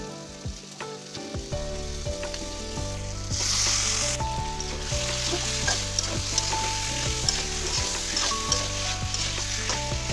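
Papaya pieces sizzle loudly in a pan of fried spice paste for a small boal fish curry as they are stirred, a steady frying hiss with scraping over soft background music.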